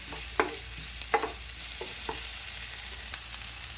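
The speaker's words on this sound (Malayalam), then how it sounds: "വെളുത്തുള്ളി ഇട്ടോ ഇഞ്ചി ഇട്ട് കൊടുക്കാം ഇതൊന്ന് നന്നായിട്ടൊന്ന് മിക്സ് ചെയ്യാം" Garlic and ginger stirred in a hot frying pan while making spicy pasta, giving a few soft scraping and clinking spoon strokes over a faint, steady sizzle, with no one talking.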